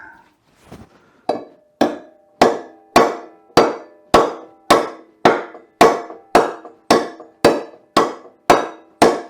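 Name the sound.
hammer tapping on lawn mower part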